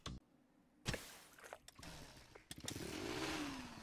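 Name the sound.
drill digging in the video game Pepper Grinder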